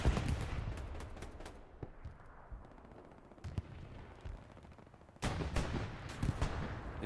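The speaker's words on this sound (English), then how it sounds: "There's the SPA shooting across." Self-propelled artillery and other weapons fire in a World War II video game match at Mortain. Bursts of sharp gunfire and booming shots crackle in quick clusters, with a heavier salvo near the end, and no voices over them.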